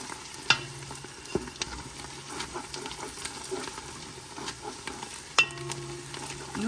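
A base for East African chicken curry caramelizes in a pan with a quiet, steady sizzle, broken by a few sharp utensil clicks and scrapes.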